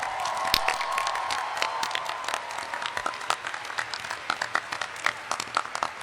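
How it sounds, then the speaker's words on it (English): A panel audience at RTX 2016 applauds the RWBY Chibi team, close clapping and some cheering at first that gradually thins into scattered, individual claps. "everybody should give them a round of applause"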